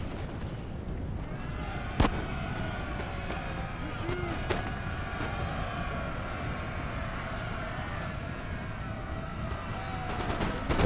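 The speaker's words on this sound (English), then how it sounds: "The cannons doing their job." Cannon artillery fire from a Napoleonic-era battle in Napoleon: Total War, with booms and sharp reports scattered over a constant roar of battle noise, one loud blast standing out near the start, while a voice talks throughout.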